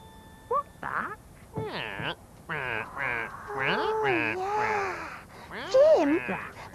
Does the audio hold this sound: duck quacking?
yes